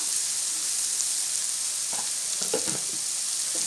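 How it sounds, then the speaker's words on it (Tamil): Onions sautéing with a pinch of salt in a pan for Tamil-style egg curry give off a steady close sizzle, with a few soft stirring scrapes toward the end and no talking. "இப்போ வந்து வெங்காயம் நல்லா வதங்கட்டும்"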